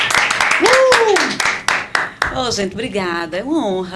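An audience claps to welcome a female guest onto a Christian podcast set, a burst of sharp hand claps ringing out close and loud while she speaks over them, then her voice continues alone as the clapping stops.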